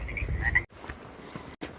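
Frogs croak in a chatty chorus near the Ice Caves trail on an evening in the woods, with a couple of loud, close croaks over a low outdoor rumble before the sound cuts briefly.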